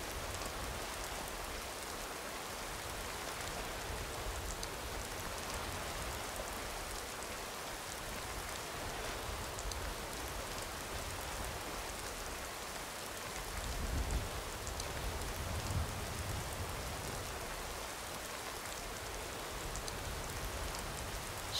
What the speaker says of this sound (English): God, it's raining sideways.